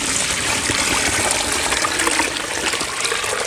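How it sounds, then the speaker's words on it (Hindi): Water pours steadily onto red dirt outdoors, a loud, continuous gushing splash held close for a few seconds with no talk. "चले पानी आ गया, मैं बीच में डालती हूँ पानी।"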